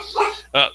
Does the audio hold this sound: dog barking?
yes